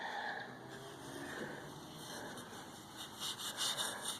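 Fine 400-grade steel wool rubbed gently along a wooden joint, a soft continuous scratchy hiss, quiet and close, with a few slightly sharper strokes near the end.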